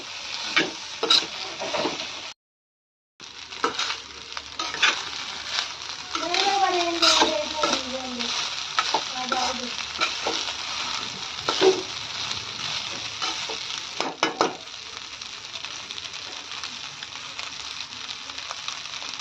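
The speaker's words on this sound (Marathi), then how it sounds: "आता हा राईस छान मिक्स करून घ्यायचा आहे" Spiced leftover rice stirred in a pan to coat it with masala, a steady frying hiss with scattered scraping of a spoon, close, briefly cut to silence, with faint voices underneath.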